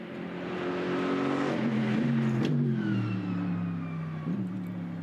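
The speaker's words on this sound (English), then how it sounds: "Just saw the rear wing going through with that glorious sound, that big meaty V8." A CP Racing Mercedes V8 race car passes Tiergarten at the Nürburgring, its deep, meaty engine note swelling as it nears, shifting through gear changes and fading slightly as it moves away, heard alone at moderate distance.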